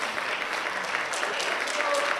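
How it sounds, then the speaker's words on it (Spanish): Congregation applauding during a church service after a prayer, a continuous wash of clapping with a few voices mixed in. "Denle un fuerte aplauso al Señor."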